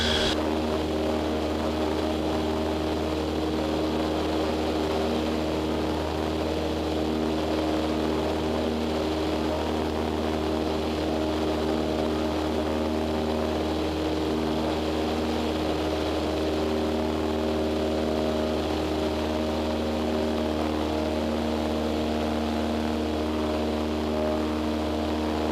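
A light propeller airplane engine runs at full power while climbing after takeoff on a private pilot training flight. It is a steady, loud, droning hum that holds for the whole stretch with no voices.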